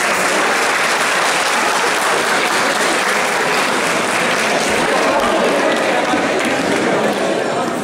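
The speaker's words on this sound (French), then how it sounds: "messieurs, dames, applaudissez-vous s'il vous plaît" Dense, sustained applause from a large audience at a convention concert, loud and continuous throughout with a faint murmur of voices blended in.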